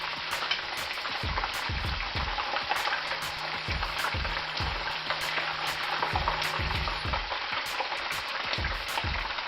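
Shrimp rangoon deep-frying in hot oil with a dense, steady sizzle, while a utensil skims the grease and scrapes and taps the pot in an irregular rhythm about once a second.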